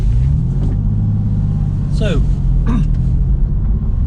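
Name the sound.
Porsche 911 driving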